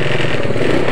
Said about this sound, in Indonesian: Alhamdulillah untuk motornya sudah hidup ya